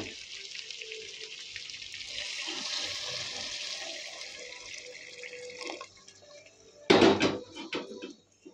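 Hot water is poured into a pan of mutton curry cooking with tomatoes, a steady hissing splash that builds and then fades, followed near the end by a sharp, loud sizzle and burst.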